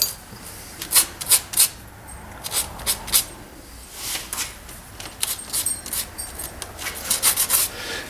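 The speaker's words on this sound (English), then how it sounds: "We're going to take some 240 sandpaper, and we're going to scuff up our metal pieces a little bit" Metal pen parts being scuffed by hand with 240-grit sandpaper, producing bursts of short, bright rasping strokes in quick clusters with brief pauses, close up.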